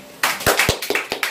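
Several bursts of hand clapping from a small group at a weekly meeting, loud and near, in an irregular rhythm.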